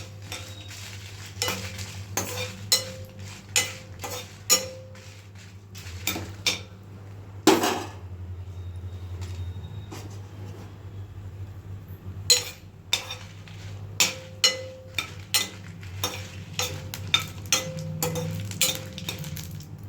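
Red chillies fry lightly in oil in a pan for gongura pachadi while a utensil stirs them, giving repeated clinks and scrapes against the pan over a soft, steady sizzle.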